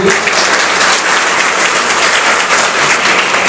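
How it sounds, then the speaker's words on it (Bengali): An audience at a Government ITI in Ranibandh, Bankura applauds loudly and continuously, many hands clapping together in a full, even roar. "আমরা গোবিন্দর জন্য একটা হাততালি দেবো।"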